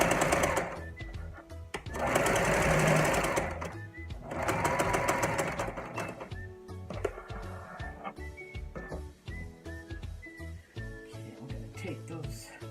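Sewing machine stitching a placemat runs in two loud, steady bursts of rapid mechanical chatter, each lasting about two seconds, then gives way to quieter handling clatter and brief clicks under faint talk.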